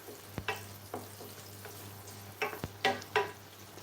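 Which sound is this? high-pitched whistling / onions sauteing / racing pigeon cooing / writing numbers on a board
onions sauteing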